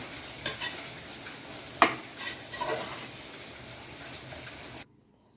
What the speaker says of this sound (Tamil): அடுப்பை நல்லா ஹை ஃப்ளேம்லேயே வச்சு நல்லா கிண்டிடுங்க